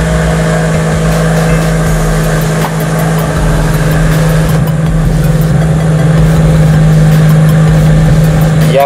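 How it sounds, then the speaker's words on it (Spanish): A Honda Civic Si with a turbo engine runs just after starting, a loud close steady idle with a constant drone and slightly uneven roughness from a still-untuned mixture, no voices. "Ya prendió el coche, está más estable, pero aún tiene unas fallitas."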